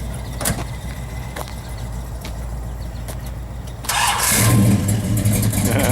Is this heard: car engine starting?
yes